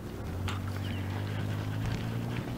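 Horse loping in an arena, with a steady, low rumbling rhythm of hoofbeats and faint thuds over continuous background noise, no clear speech.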